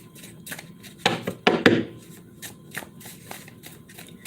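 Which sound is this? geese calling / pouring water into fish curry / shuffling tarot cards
shuffling tarot cards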